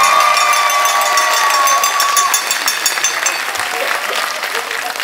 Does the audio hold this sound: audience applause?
yes